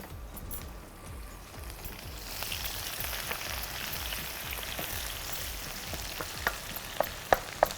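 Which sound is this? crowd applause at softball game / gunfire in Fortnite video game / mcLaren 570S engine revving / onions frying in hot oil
onions frying in hot oil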